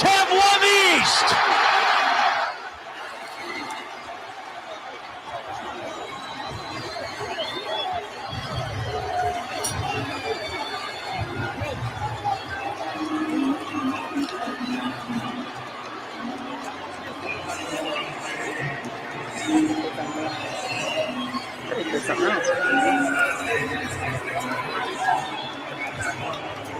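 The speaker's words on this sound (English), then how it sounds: "You hear the crowd booing a little bit as they got fired up last night." A baseball stadium crowd at an Atlanta Braves game relayed on a radio broadcast, a distant rumbling roar of chatter, cheers and some booing that swells and fades under a commentator's voice, with a brief loud burst at the start.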